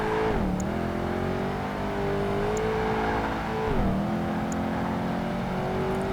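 A race car engine in Project Gotham Racing 2 on Xbox howls at full throttle, its steady whine dipping briefly with gear shifts then climbing again, loud and continuous with no talk.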